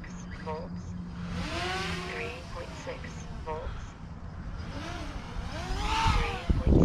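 A flying FPV drone with FPVCycle 30 mm motors gives a steady buzzing whine that swoops up and down in pitch as the throttle changes, under someone talking.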